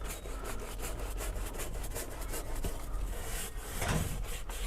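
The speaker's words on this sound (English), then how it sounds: "I can use this brush also to agitate." Steady rough scrubbing, a stiff brush working back and forth in quick repeated strokes across leather, close and continuous without any talking.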